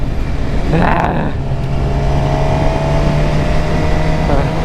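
A Suzuki GSX-R 750 motorcycle riding off a Texas highway, a loud steady engine drone with strong wind rush and a faint rising whine near the start, continuous and close.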